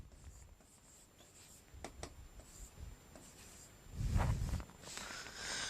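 Handwriting on paper while copying out a Sanskrit word during a lesson, with soft scratchy pen strokes in short bursts and a brief louder rub near the end, close and quiet with no talking.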